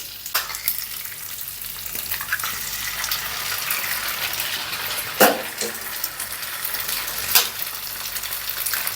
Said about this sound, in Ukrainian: І зараз вже зразу будемо закидати яєчка наші яйця.